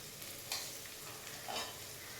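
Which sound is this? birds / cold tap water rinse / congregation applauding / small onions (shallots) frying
small onions (shallots) frying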